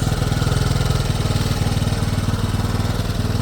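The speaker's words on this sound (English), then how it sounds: "If you don't have one of these air compressors, I highly recommend." An air compressor runs nearby with a loud, steady, rapid mechanical chugging that continues without a break.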